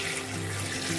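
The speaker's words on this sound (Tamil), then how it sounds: "தண்ணி ஊற்றி வச்சுருவோம்." Continuous watery rush of water poured into a container over dried fish to soak it, brief and moderately close.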